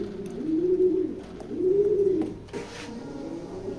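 Racing pigeons coo in two long, close, rolling phrases, followed by a softer third coo, with no other sounds competing.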